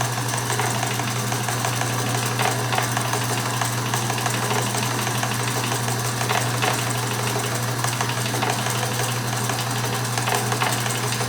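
A Sears Kenmore 158 series sewing machine runs steadily at a slow pace, its low motor hum and fast mechanical stitching chatter continuous and close throughout, with no voices.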